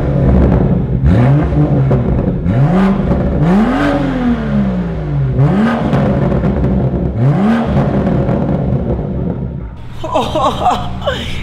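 A tuned BMW M2 with about 410 hp and a loud aftermarket exhaust revs several times in sharp rising-and-falling bursts, close and loud over a steady idle rumble, with people talking nearby.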